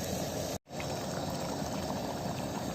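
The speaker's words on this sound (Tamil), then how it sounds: "மசாலா வாசனை போக வரைக்கும் கொஞ்சம் கொதிக்க விட்டுட்டு அதுக்கப்புறம் நம்ம தயிர் ஆட் பண்ணணும்." Channa masala simmers and boils in a pan, giving a steady close bubbling hiss that drops out for a split second before continuing.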